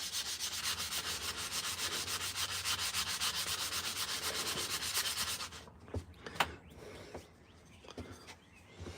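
Rapid back-and-forth scratching of sandpaper by hand on a wooden spoon, a quick even rhythm for several seconds, then it stops, leaving faint clicks and a bird chirping.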